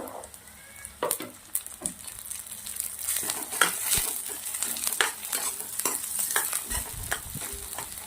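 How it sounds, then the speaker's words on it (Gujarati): Green peas sizzle in hot ghee with cumin, onion, ginger and garlic, while a spoon stirs and scrapes the pan in quick, irregular strokes close by. "હવે આપણે વટાણા નાખી દેવાના છે."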